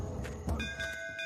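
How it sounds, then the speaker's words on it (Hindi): A single bell strikes and rings on with a sustained shimmering tone, close and moderately loud over background noise. "घंटी बज गई।"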